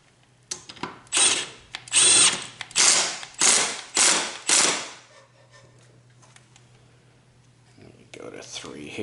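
A cordless drill driver on a torque clutch setting runs in about six short, loud bursts of whirring and ratcheting clutch clicks, then falls quiet; the work is on a Troy-Bilt mower's Honda engine.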